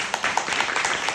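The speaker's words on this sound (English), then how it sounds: "Another round of applause." An audience at an evening presentation gives a short round of applause, steady close-up clapping from many hands, with no voices over it.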